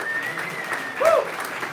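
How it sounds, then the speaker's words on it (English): An audience applauds award recipients at a live celebration, a brief, moderate patter of clapping that swells for a moment near the end. "So let's give a round of applause for these guys."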